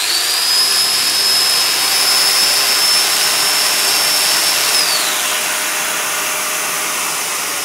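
A Festool Domino DF 500/700 joining machine runs continuously with a loud, steady high-pitched motor whine that shifts slightly in pitch partway through, close and alone without talk.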